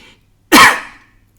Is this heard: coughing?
yes